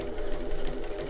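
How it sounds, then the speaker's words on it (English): A sewing machine runs at a steady, fairly loud hum while back stitching fabric for a wallet, in one continuous short burst with no pause. "So I'll start my needle down and back stitch at the start there"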